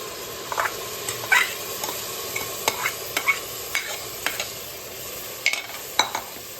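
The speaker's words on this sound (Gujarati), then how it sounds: "હવે આપણે જે દાળ ચોખા પલાળે છે એને અંદર આપણે એડ કરી દઈશું બધા" Soaked lentils and rice for Kathiyawadi vaghareli khichdi stirred into a sizzling spiced tempering, giving a steady soft fry hiss with repeated close scraping stirs and clinks throughout, no talk.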